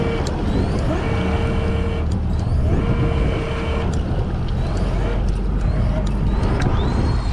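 Fishing boat engine on a commercial wahoo trip, a steady loud drone with water rush that holds throughout and surges slightly as throttle is added, with tones shifting over the engine noise.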